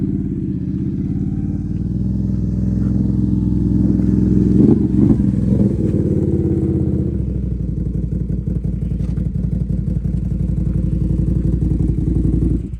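A third-generation Can-Am Outlander ATV with a full HMF header-back exhaust idles with a deep, throbbing exhaust note, then revs and settles into a steady rumble, close and continuous throughout.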